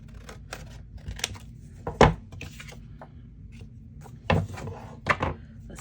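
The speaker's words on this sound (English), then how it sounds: "let's trim this off" Scissors trim paper scraps for a junk journal, giving a handful of sharp, close snips and crisp paper rustles spaced irregularly over a quiet background.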